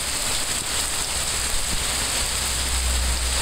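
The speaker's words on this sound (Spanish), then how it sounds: "está lloviendo en Chihuahua esta mañana del 9 de julio." Steady, heavy rain pouring down in a dense, unbroken hiss, with no voices, on a July morning in Chihuahua.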